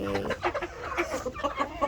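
A white rooster and hens cluck repeatedly in short, loud, close bursts, a busy chattering of farmyard fowl with no talking.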